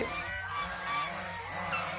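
Geese honk continuously in a close group, several overlapping calls over a steady outdoor background, with no talk.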